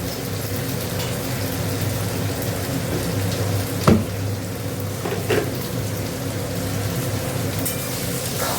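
Hot water poured into a cooking pan holding tomato, a steady rushing hiss with low sizzling underneath and two brief clunks partway through.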